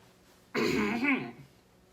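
A single short cough or throat-clearing burst, close and fairly loud, lasting under a second with quiet before and after.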